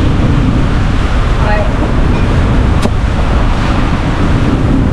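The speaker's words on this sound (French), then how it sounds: "là c'est du vent du nord de nouveau" Strong north wind at sea roars steadily across the microphone aboard a sailing boat, a dense, loud rush with the wash of water beneath, and a brief word of speech.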